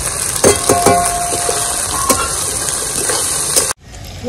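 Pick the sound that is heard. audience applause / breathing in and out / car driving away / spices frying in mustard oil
spices frying in mustard oil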